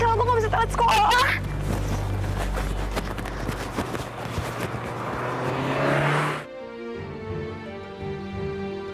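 A car rushes past close by in a loud roaring whoosh with a voice over it, then fades as music takes over.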